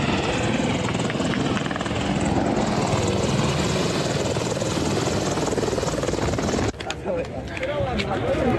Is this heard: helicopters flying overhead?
yes